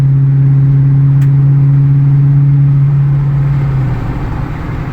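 A loud Ford Super Duty 6.2 V8 pickup exhaust with a 4-inch Flowmaster system drones close by at a steady mid-rev hum around 2,000 RPM, then the tone drops as the engine eases off near the end.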